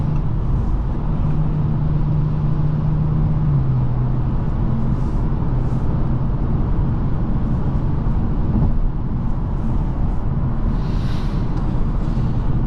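Inside a 2024 Audi S5 3.0T Sportback, a steady engine drone and road roar fill the cabin as the car pulls ahead, a low tone rising slightly under constant tyre noise.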